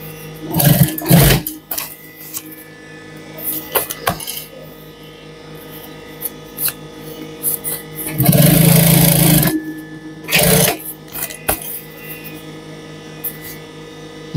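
A sewing machine stitches a replacement zipper onto a jacket, starting at the collar seam, in loud short bursts separated by quieter pauses and handling clicks, with no talk.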